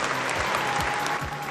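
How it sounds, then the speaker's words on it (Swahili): Dense, steady applause fills a hall at the Yanga club general meeting, many hands clapping close and continuous with no breaks. "Makofi mengi kwa Romain Folz."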